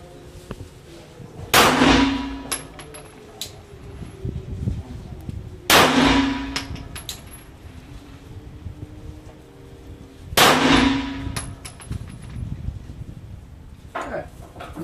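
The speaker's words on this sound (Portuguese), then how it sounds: "Vou dar mais três disparos aqui, vamos ver como que sai." Three Glock pistol shots fired at a target about 5 metres away while testing a red dot sight, each a sharp loud crack spaced several seconds apart, with faint rattling and handling noises in between.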